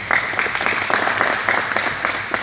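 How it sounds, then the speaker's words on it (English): Steady applause from a sizable crowd, many hands clapping at once, with a few louder individual claps standing out throughout. "Give yourself a round of applause."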